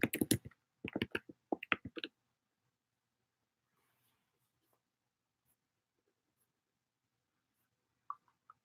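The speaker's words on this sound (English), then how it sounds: "We're typing it in." Typing on a computer keyboard: a quick burst of close, sharp key clicks for about two seconds, then near silence with a few faint taps and one last click near the end.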